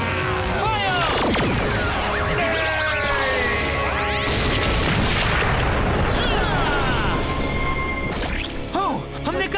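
A weapon blast fired in a Power Rangers Super Samurai battle, a dense roaring crash with swooshing effects and shouting voices over a continuous loud mix.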